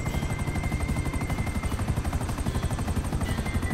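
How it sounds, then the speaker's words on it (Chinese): Helicopter in GTA5 flying over an aircraft boneyard, its rotor beating in a steady rapid chop that stays loud and close throughout, with no talking. "我们先开一下直升机，看一下这附近的状况"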